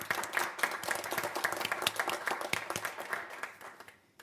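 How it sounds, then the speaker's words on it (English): A small seminar audience claps for the organizers, with sparse, fairly faint clapping from a modest crowd that tapers off toward the end. "So I think that calls for an applause for the people that made this possible."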